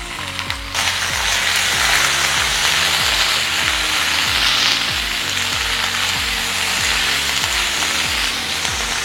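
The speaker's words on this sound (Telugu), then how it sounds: "2 టమాటాలని ముక్కలు చేసుకొని వేస్తున్నాను." Chopped tomatoes and ivy gourd fry in a pan, giving a loud, close, steady sizzle, with a rhythmic scraping or ticking running underneath throughout.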